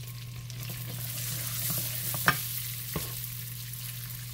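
Vegetables cooking in butter in a pan for a Super Bowl Sunday dinner give off a steady, even sizzle with a steady hum behind it, broken by a couple of soft clinks of stirring.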